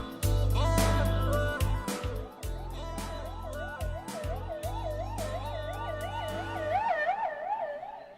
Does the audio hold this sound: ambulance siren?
yes